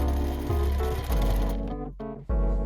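A sewing machine stitching fabric for a tote bag made from scrap cloth, a loud, close, continuous mechanical whir with a brief pause near the end before it resumes.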